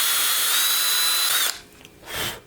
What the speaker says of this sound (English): And you're gonna drill 2 in there.